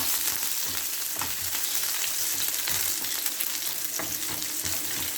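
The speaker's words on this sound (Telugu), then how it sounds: "ఇప్పుడు ఆనియన్స్ వేసేస్తున్నాను. ఇవి చక్కగా ఫ్రై చేసుకోవాలి." Onions sizzling in hot oil in a pan for sambar, a bright continuous crackle with occasional stirring scrapes and pops, close and steady with no talking.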